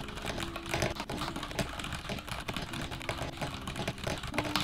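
Rapid, steady keystrokes clatter from a mechanical keyboard with linear switches, a dense stream of quick clicks and thocks at close range with no talking.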